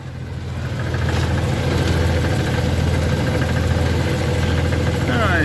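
A Chevy S10 Blazer engine idles with a steady, close rumble, and its exhaust system clacks against the body. The low idle holds continuously and grows slightly louder over the first second.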